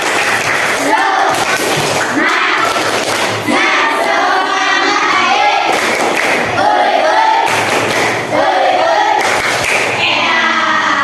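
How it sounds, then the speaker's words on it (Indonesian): Classroom group doing tepuk semangat, a patterned spirit clap performed together, with loud rhythmic claps and thuds repeating under voices chanting along. "Beri tepuk semangat."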